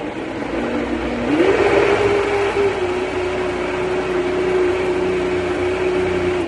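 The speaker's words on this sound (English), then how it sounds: "So I'm going to put it on the Vitamix base and I'm going to put it on low." A Vitamix blender on its low setting runs with a steady whirring motor hum that rises briefly in pitch after about a second, then holds an even drone.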